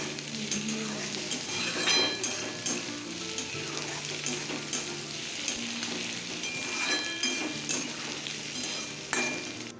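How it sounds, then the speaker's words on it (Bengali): Onions and tomato fry in a pan with a steady, close sizzle, broken by occasional scraping stirs of a utensil against the metal, with no talking. "টমেটোটাও দিয়ে দিই এখানে, দিয়ে আরেকটু ভেজে নেব।"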